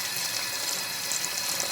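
Warm tap water runs steadily into a sink for a tie-dye washout, a close, continuous hissing stream with no voices.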